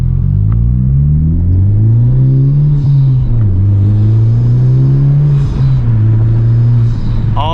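A 2021 Honda Civic Type R fitted with a MAP exhaust makes a loud, close full-throttle pull: a deep, droning exhaust note climbs steadily, dips briefly around a shift, then pulls again without pause.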